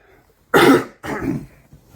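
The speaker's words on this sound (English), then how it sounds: "Excuse me, I need a cough really bad." Two heavy, raspy coughs in quick succession, close and loud, followed by quiet.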